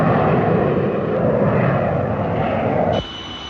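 An RAF Canberra jet bomber roars past in a 1951 recording, a loud, steady broadband engine rush that holds for about three seconds and then cuts off abruptly, leaving a faint high tone.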